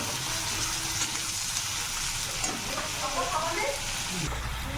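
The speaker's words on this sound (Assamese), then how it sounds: "এতিয়া পিঁয়াজ আৰু কেপচিকামখিনি ভাজা হৈ গৈছে" Sliced onions and capsicum sizzle in a pan for a chicken sandwich, a steady close crackling fry with a faint stirring scrape, continuous and moderately loud, while a soft voice occasionally murmurs underneath.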